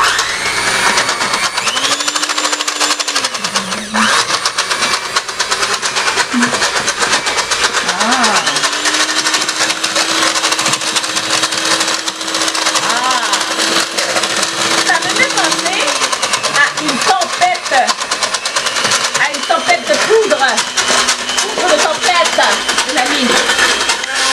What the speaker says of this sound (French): On va venir fouetter.